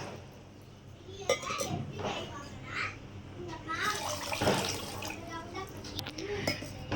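Two vessels of water are poured into a cooking pot for Diwali gulab jamun, splashing close by with clinks of metal pots, under ongoing talk.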